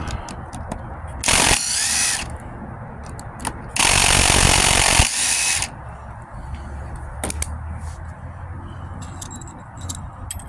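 Starter motor of a 1978 Johnson 70 hp outboard cranking on a weak battery, two sluggish whirring bursts of about one and one and a half seconds separated by clicks and handling noises.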